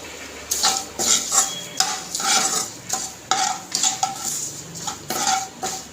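A spoon stirs coriander powder and other spices in a pan, giving repeated scraping strokes and metallic clinks in an uneven rhythm over a soft sizzle, close and clear with no talking.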